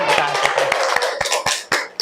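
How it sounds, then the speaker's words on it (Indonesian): A classroom group is applauded during a microteaching lesson. There are a few quick, uneven claps over about two seconds, fairly close, with a voice speaking underneath. "Kasih tepuk tangan."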